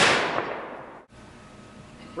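Ceremonial rifle volley at an outdoor dedication on a foggy, rainy day, a single sharp report opening the moment and decaying in a long echo before a brief lull.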